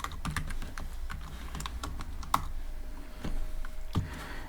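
Python code being typed on a computer keyboard: a steady run of quick key taps at close range with uneven rhythm and a few louder strokes, no talking.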